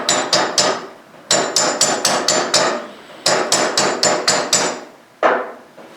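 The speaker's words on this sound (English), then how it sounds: "take the sharper side of that hammer and hit the wire" A hammer's sharp edge strikes wire wrapped around a wooden broom handle in traditional 19th-century broom making, giving loud, ringing metallic blows in quick bursts of four to six with short pauses between, close up and without talk.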